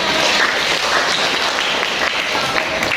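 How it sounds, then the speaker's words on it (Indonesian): A classroom of students claps together after a group presentation during a school guidance session, a loud, dense, continuous burst of applause that fills the room throughout. "Oke, beri aplaus untuk"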